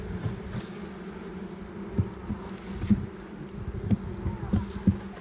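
Honey bee swarms buzzing at an apiary, a dense steady drone of many bees close by, with individual insects zipping past the listener now and then.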